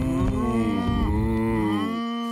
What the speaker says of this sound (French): Les vaches pourront brouter dans cette prairie.